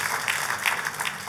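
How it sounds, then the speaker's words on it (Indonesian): A church congregation claps continuously during a worship service, a dense, steady patter of many hands filling the room with no voices on top. "Kita kasih tepuk tangannya yang paling meriah buat Tuhan kita."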